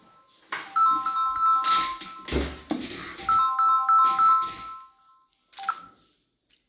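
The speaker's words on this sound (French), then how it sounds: "j'ai l'impression qu'il y a quelqu'un qui appelle le téléphone de l'entreprise" An office telephone rings with a repeating electronic melodic ringtone in several short bursts, close and fairly loud, with some bumps and handling noise between the rings.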